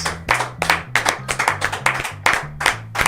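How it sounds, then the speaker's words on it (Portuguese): Clapping for senators, heard as a steady series of sharp, rhythmic hand claps, each burst distinct, layered over a low droning tone throughout. "palmas pros nossos senadores"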